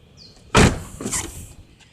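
A BMW Z4 35is door handle is tugged and the car unlocks itself: one sharp, loud clunk of the latch followed by a softer mechanical whir and click, close by with no talking.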